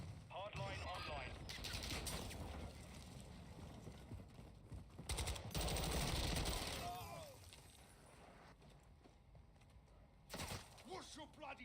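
Video game gunfire: bursts of rapid shots and loud bangs in a busy combat scene, with voices shouting over the shooting and gear clattering between volleys.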